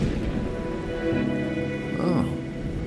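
Night rain falling in the video game Wuthering Waves, a steady full hiss of rainfall throughout, with a low tonal murmur swelling briefly in the background.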